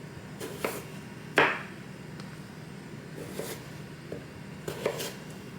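Knife chopping potatoes into cubes on a cutting board, a handful of separate sharp knocks spaced irregularly, fairly close and quiet, with no talk.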